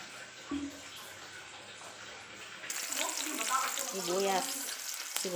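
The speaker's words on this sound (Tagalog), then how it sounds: "Gisahin naman natin yung mga sahong." Garlic and other aromatics are being sautéed in a pan, giving a soft steady sizzle that grows louder and brighter partway through, with faint stirring and a few voices murmuring in the background.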